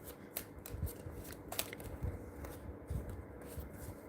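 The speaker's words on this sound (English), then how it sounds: "let's shuffle" A deck of cards is shuffled in a steady run of soft, crisp riffling bursts, close and quiet, with no talk.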